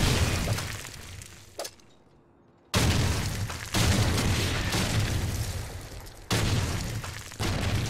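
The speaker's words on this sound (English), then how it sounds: "Grenade!" A grenade blows up in a video game shooter, a loud shattering blast that cuts in after a brief near-silence, followed by more heavy bursts and rumbling noise.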